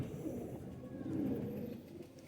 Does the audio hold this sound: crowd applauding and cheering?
no